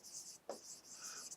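Marker or chalk writing on a classroom board during a maths lesson gives short scratchy strokes, a quiet rubbing squeak with a brief tap, heard close and faint.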